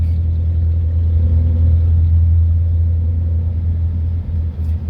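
Steady, loud low rumble of a jeepney engine heard from inside while riding along a road, a constant drone with slight swells and no talking.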